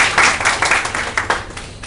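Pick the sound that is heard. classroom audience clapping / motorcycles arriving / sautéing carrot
classroom audience clapping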